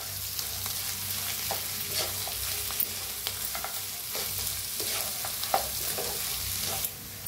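Cooked potatoes are pressed and mashed in a frying pan for a South Indian-style potato bhaji, giving soft scraping and squashing strokes over a steady low sizzle, close and continuous with no talk.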